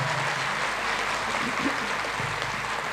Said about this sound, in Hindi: आप लोग प्लीज मेरे कहने पर सभी के लिए ताली बजाइए